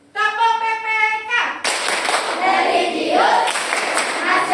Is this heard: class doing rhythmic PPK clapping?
yes